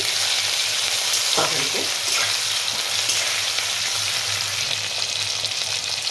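Vegetable curry sizzles steadily and loudly in hot fish oil, a continuous frying hiss throughout with a single word briefly spoken over it.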